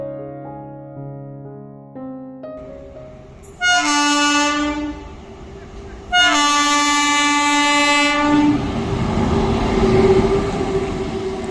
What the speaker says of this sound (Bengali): এখানে মালগাড়ি প্রচুর যাতায়াত করে